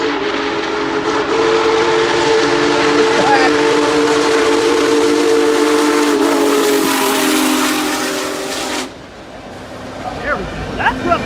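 A small park train sounds a loud, sustained steam-style whistle for about nine seconds, steady and close, before it cuts off abruptly, leaving quieter ambient noise and faint chirps.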